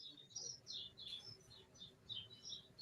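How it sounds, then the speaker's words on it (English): Small birds chirp in a yard in short, high, repeated twittering bursts, faint and distant, with a little background rumble. "The birds in your yard is louder than the courtroom."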